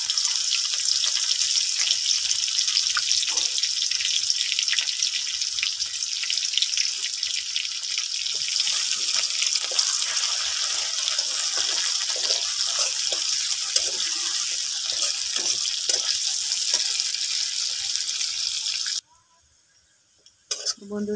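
Chopped onion sizzles in a hot pan with a loud, steady hiss and scattered crackles, broken by a few faint scraping stirs, then drops away abruptly near the end.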